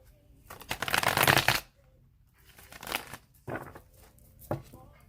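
A deck of tarot cards is riffled in several bursts: one long, loud shuffle, followed after a pause by three shorter, quieter riffles, close up with near silence between.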